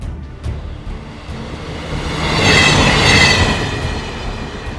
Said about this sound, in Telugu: ట్రైన్ ఫుల్ స్పీడ్ లో దూసుకుపోతుంది